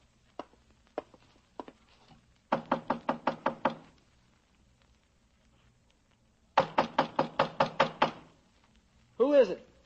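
Knocking on a door in a 1950s radio crime drama: a few single raps, then two fast bursts of about seven firm knocks each, with a short spoken voice at the end.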